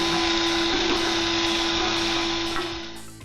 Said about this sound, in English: And you drill into the can.